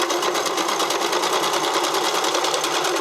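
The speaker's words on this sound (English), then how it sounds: "As with most of my sewing, I'm giving it the stretch and feeding it through together because I want this to have a fair amount of stretch." A sewing machine stitches narrow elastic onto fabric, a fast, steady, even run of needle strokes, close and continuous with no talk.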